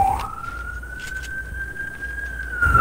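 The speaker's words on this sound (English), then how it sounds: "What are those sirens?" A police siren outside holds one long sustained wailing tone, fairly loud and steady, with a brief rising sweep at the start and a falling swoop at the end.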